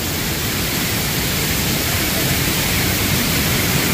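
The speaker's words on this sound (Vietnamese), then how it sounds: "Wow, thác nước đổ rất là mạnh luôn," Datanla waterfall in Da Lat pours strongly, a loud, steady, unbroken roar of falling water with nothing else standing out.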